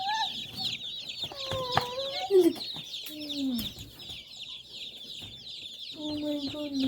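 A flock of backyard chickens, Ameraucanas among them, clucks and squawks close by in a run of short, varied calls, with a constant high peeping bed underneath and no talking.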